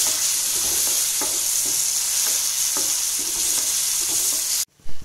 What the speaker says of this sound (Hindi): फिर अच्छी तरह इसको हिलाएंगे